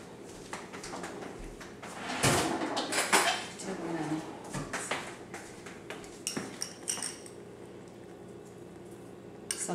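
In a home kitchen during Indian cooking, utensils and a spoon clatter against dishes and pans, with scattered metallic clinks and knocks, some bumps, and brief quiet stretches.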